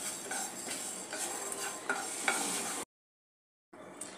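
Kachori ingredients dry-roasting in a pan over a low flame, a soft steady crackle with rhythmic scraping and stirring strokes, then a sudden silence before the stirring briefly resumes.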